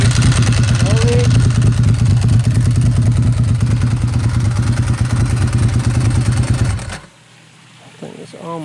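A custom 2004 Ducati Monster S4R idling close by with a steady, lumpy pulse and the clattering rattle of its dry clutch, then the engine cuts off and a voice speaks briefly.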